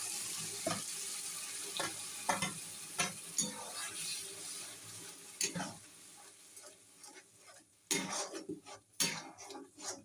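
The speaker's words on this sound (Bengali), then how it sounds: "জিরে একটু ফোড়ন দিয়ে দিচ্ছি চাটনির মধ্যে" Cumin seeds sizzle in hot oil as a tempering for chutney. A steady hiss runs throughout, broken by repeated scraping stirs and a louder splash of sizzling near the end.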